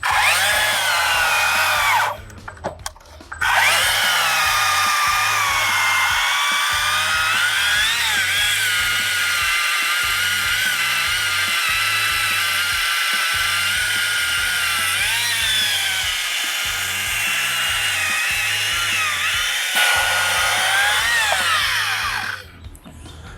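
A Stihl 20-inch chainsaw cutting wood at high power gives a loud, sustained high-pitched engine whine with a rhythmic chugging undertone, dipping briefly near the start and again near the end.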